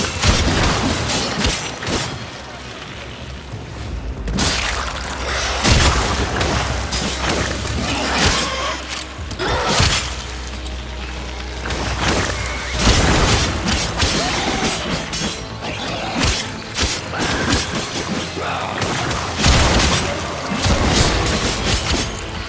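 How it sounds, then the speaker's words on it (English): Weapon fire destroying a hive in the sci-fi shooter Warframe: repeated loud bursts, crashes and impacts in quick irregular clusters, with shattering debris between shots. "Destroy it with weapon fire."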